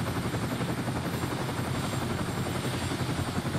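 A Chinook helicopter in the video game Rust roars close by, its rotor chopping in a steady rapid throb over a dense broadband engine roar, with no other sounds.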